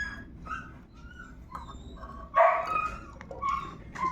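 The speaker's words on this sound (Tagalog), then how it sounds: "Aso po yun ng kapitbahay" A dog barks a few times at a distance, with sharp yips scattered over a quiet outdoor background.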